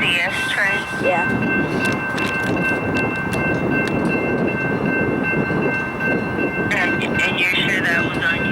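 A Norfolk Southern manifest freight train, led by a single locomotive, rolls up the Carr Street connector with a heavy, steady rumble throughout, and a sustained horn blares near the beginning and again toward the end.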